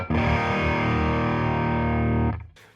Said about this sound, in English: it's a fairly bright and present sounding overdrive, side A